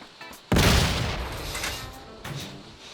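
A sudden loud grenade blast in PUBG bursts in, followed by a rumbling decay and a smaller thump near the end.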